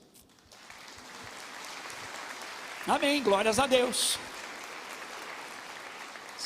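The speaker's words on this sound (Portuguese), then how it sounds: "Vamos aplaudir a Deus?" Church congregation clapping, a sustained soft wash of applause, with a voice speaking briefly over it midway.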